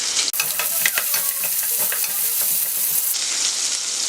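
Steady oil sizzle of onions and garlic frying in a pan, with a few soft stirring scrapes, close and continuous.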